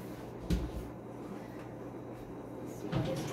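A wooden drawer on a simple black dresser slides open or shut, with a soft thump near the start and another near the end over a steady low room hum.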